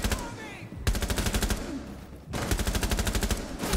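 Rapid automatic gunfire from the Rainbow Six Siege video game rattles in two long sustained bursts, loud and close, with a short gap between them. Excited player talk is faintly present.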